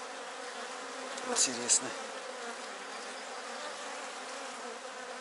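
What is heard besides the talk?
bees buzzing in a beehive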